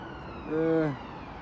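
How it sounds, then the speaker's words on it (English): Brief ambulance siren wail rising and falling once at moderate distance outdoors, passing under a quiet street background. "Another ambulance."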